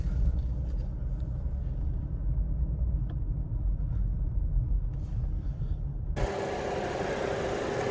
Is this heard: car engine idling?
yes